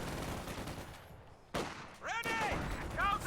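Rattling bursts of LMG 42 machine gun fire in a World War II strategy video game, mixed with other battle noise and heard under a commentator's voice.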